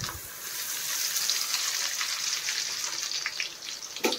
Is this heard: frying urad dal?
yes